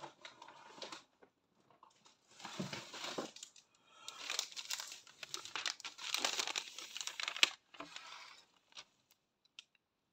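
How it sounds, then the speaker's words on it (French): Gift wrapping paper being unwrapped from a Christmas present, with bursts of crinkling and tearing rustle in several spells separated by pauses, close and fairly quiet. "Ça me fait déballer encore un cadeau, du coup."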